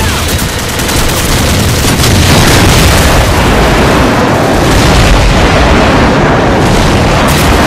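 A frag grenade blast in Call of Duty 4 sits within a constant, loud wash of explosions and gunfire that rumbles on without a break.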